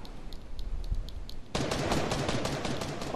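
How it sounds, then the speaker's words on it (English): A minigun in the video game Fortnite opens up partway through, its dense, rapid-fire stream of shots loud and continuous after a brief quieter stretch. "Oh, that's a minigun."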